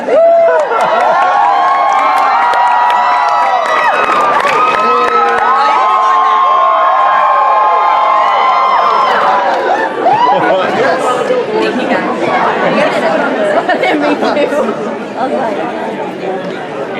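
A large Comic-Con panel audience cheers, whoops and shouts together for a group selfie. The loud, dense roar of many voices carries on through the clip and swells again toward the end.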